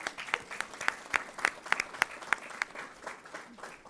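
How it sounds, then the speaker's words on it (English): Audience at a school board meeting applauding a school, a fairly faint, sparse round of clapping with distinct individual claps rather than a dense roar. "I think we should give them a round of applause."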